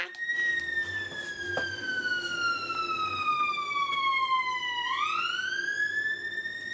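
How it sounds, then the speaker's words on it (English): An ambulance siren sweeps past nearby with a long, steady wail whose pitch slides down and then jumps back up as it passes, loud over a constant low traffic hum. "There's so many ambulances in my area."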